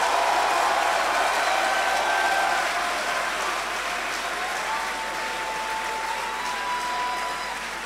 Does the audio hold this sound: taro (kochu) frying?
no